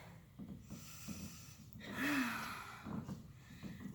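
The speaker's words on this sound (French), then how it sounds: "Inspire, expire." During a cardio workout class, a person breathes audibly in and out. The breaths are faint, close, forceful and snorting, with one stronger exhale in the middle.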